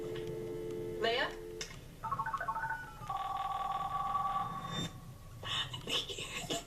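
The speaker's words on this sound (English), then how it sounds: "I hear the phone ring" A telephone rings in a house during an emergency call, with tonal ringing bursts and a beeping tone, heard beneath and between voices.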